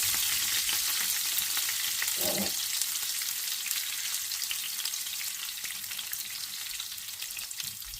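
Finely chopped green chili frying in oil over a very low flame, a steady soft sizzle running throughout with light stirring, close and continuous with no talking.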